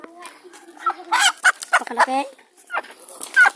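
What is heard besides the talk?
chicken clucking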